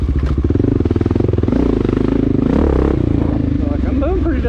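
A Honda XR650L dual-sport motorcycle engine drones loudly and steadily up close while riding, with rattling clatter and shifting revs throughout.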